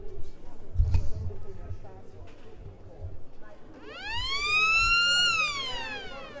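A rising, wailing siren sounds loudly across the hall at a Serie A2 Coppa Italia roller hockey match, holding its pitch before falling away, over a low crowd murmur and a brief bounce-like thud earlier.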